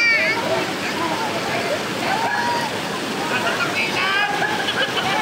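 Gumaer Falls in Mamburao, Occidental Mindoro, a waterfall roaring steadily and loudly throughout, with voices and children's shouts over the rushing water.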